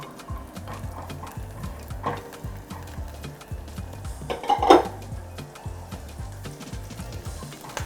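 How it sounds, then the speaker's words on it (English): Vegetables are stirred in a metal pot for Nigerian fried rice. A spoon scrapes and taps against the pot in an irregular rhythm, close by, with one louder clatter near the middle. "I'm going to cook up the rest of the veggies now"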